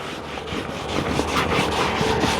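A pink scrub pad rubs over a car seat in a Ford Fusion interior, a close, steady back-and-forth scrubbing with soft rhythmic swishes and no talk.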